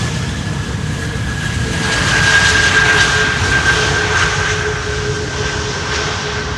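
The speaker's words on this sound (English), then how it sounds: "Idle reverse landing." A large airliner lands on runway 18R at Schiphol using only idle reverse thrust, producing a broad, steady jet roar. It swells slightly midway and then holds at a constant level, with a sustained whine running through it.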